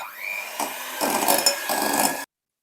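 Butter and light brown sugar being creamed for a Christmas fruit and nut cake, heard as a loud mechanical whir in several bursts with short pauses between them, and no talking.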